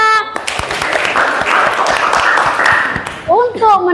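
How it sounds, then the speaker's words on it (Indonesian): A class of seventh-grade students bursts into brief applause in a classroom, loud clapping with children's voices and a teacher talking over it near the end. "Beri aplaus dulu untuk kita semua."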